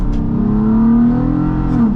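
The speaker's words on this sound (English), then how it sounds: "I really like the way that 6-cylinder sounds." A loud six-cylinder engine of a Toyota FJ Cruiser SUV revs steadily close by, its pitch climbing and holding, then easing slightly toward the end.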